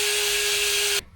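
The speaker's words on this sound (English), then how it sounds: "I'm just going to grab my wire wheel and a drill and clean up all this rust stuff." A drill spinning a wire wheel scrubs rust off a Jeep Commander rear brake hub, a loud steady whirring grind that holds for about a second and then cuts off abruptly.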